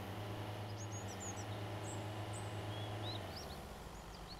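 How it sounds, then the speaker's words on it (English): Faint, scattered bird chirps sound over a low steady hum in the survival video game Mist Survival, with several short tweets spread through the scene. "I still hear the birds chirping"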